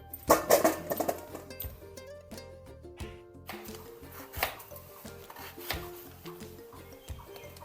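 A knife chops green jackfruit into small pieces for a Kerala idichakka thoran, giving a steady run of close, sharp chops on a cutting board, with some louder strikes near the start and no talking.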